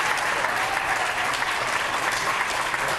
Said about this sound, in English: the witness drew applause